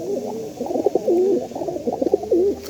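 A caught pigeon coos in repeated soft, throaty warbles, close and fairly quiet, with no talking over it.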